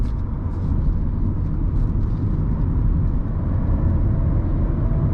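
A 2018 Audi A4 S-Line is pushed hard through a corner, heard from inside as a steady, loud rumble of engine and road noise that stays even throughout, with no talking.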